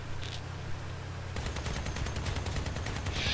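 Rapid shotgun blasts in a vehicle-combat battle in the game Crossout, a dense, loud barrage of overlapping shots firing continuously with no talk over it.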